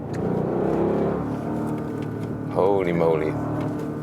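An Audi RSQ8's engine revs and whirs while driving uphill, a loud, close cabin drone with a brief excited spoken exclamation over it partway through.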